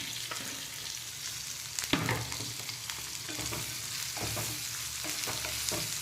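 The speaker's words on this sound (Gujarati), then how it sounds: "મરચું તતડે એટલે હિંગ એડ કરી દેવાની ટીંડોળા મિક્સ કરી દેવાના" Ivy gourd is stir-fried in hot oil with chilli, mustard seeds and asafoetida, a continuous sizzle under scraping and tossing strokes, close and steady, with no talking.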